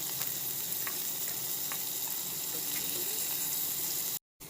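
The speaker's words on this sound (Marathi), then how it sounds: "तर थोडासा कांदा फोडणीला." Chopped onion sizzles steadily in hot tempering oil, a close, even hiss with occasional small crackles and a faint stir, cutting out briefly near the end.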